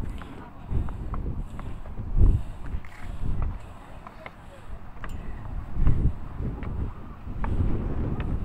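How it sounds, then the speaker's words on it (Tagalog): Strong wind gusts buffet the microphone at a hilltop resort in the Chocolate Hills, rumbling in surges that swell and fade, with people talking nearby. "yung malakas ng hangin"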